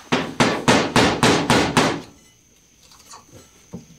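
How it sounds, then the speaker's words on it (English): Screwdriver struck with a hammer to knock a seal out of a wheel hub: seven loud, even metallic blows in quick succession, close up, followed by faint clinks and a final light tap, with no talk. "What I normally do is hit it with a screwdriver, but I was thinking maybe I could pry it out."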